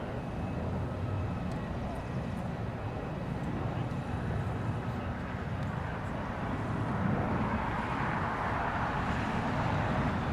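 A Boeing 777 airliner at Los Angeles International Airport, heard as a broad, steady jet roar at moderate distance that swells slightly toward the end, with faint talk beneath.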